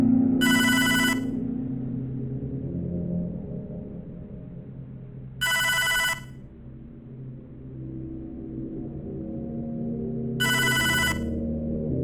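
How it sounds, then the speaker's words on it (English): A telephone rings in the video game Hotline Miami 2, three short electronic ring bursts spaced evenly apart over a low rumbling ambient music bed. "The telephone. You not gonna answer."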